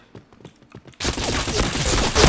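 Video-game gunfire: scattered light clicks, then a sudden dense, loud burst of rapid shots that keeps going to the end.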